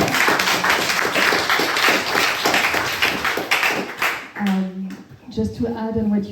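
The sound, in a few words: applause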